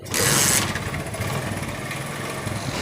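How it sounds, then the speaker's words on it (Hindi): A 70cc motorcycle with a starting problem, wired to run direct from the ignition switch, cranks with a brief hissing burst and then settles into a steady, buzzing idle close by. "अब बाइक को स्टार्ट करते हैं"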